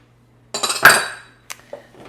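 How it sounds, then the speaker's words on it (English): A metal spoon clinks and scrapes against a crockpot while stirring chili ingredients, several sharp knocks in a short burst, then a couple of lighter taps, close and clear with no talk. "And we're just gonna give that a good stir."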